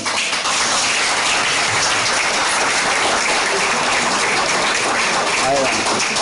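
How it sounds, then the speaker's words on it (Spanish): An audience applauds at a university event, steady dense clapping filling the whole stretch at fairly close range, with voices mixed in beneath it. "Vamos a darle un fuerte aplauso a todos."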